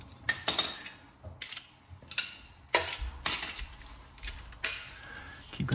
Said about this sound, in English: And we'll get our torque wrench in.